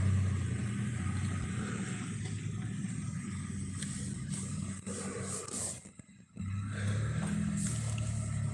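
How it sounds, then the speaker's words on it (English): A car idles and rumbles right beside someone on a phone call, a steady low engine drone with a brief drop near the end before the roar resumes. "there's a car next to me"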